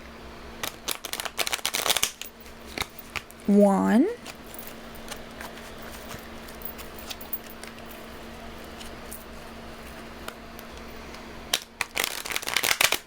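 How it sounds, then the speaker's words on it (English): A deck of tarot cards gets shuffled by hand in quick riffling bursts, crisp papery flutters close up at the start and end, separated by quieter handling and a person speaking briefly. "How many times do I gotta shuffle a deck?"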